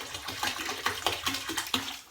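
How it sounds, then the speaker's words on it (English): Vinegar is poured from a bottle into a tub of rinse water for hand-washed laundry, making a steady splashing gurgle with rhythmic glugs, close by and with no talk. "I'm going to add some vinegar. I don't know exactly how much it is because I just pour it in there"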